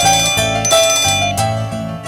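A telephone rings for an incoming call with bright, repeated electronic bell-like chimes in a melodic pattern, loud and close, with no talk over it.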